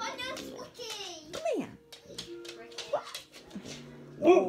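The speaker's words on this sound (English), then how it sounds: "Why are you barking?" A small pet dog at home in the morning yips and whimpers in short bursts while someone talks to it over the top.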